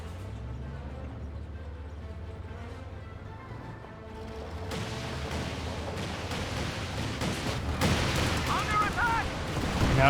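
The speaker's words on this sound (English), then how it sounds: "Now got the land mattresses barraging Red's base." Land Mattress rocket artillery pounds a base in Company of Heroes 2. A voice talks over low rumbling at first, then a dense run of launches and impacts swells into a loud, crackling barrage that keeps building toward the end.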